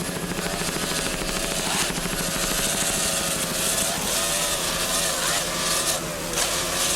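Racing powerboat at the Key West World Championships, driven by twin 2.5 EFI outboard engines, gives a loud, steady engine drone that swells and dips slightly as the throttle changes.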